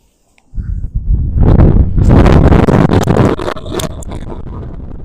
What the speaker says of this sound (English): a 60-mile-an-hour gust